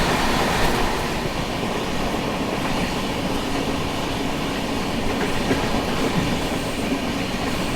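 An LHB coach of the Tatanagar–Thawe Express runs at speed, giving a loud, continuous rumble with steady wheel clatter and faint rail squeal, heard from inside the train with no voices.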